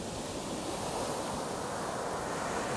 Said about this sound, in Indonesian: Wow, ombaknya besar guys.